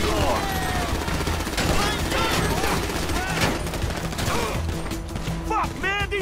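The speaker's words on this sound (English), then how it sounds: "Shoot that gun, kid!" Rapid bursts of gunfire from a GTA 5 mission shootout, with continuous shots and fusillades running throughout alongside dense game effects and shouting voices.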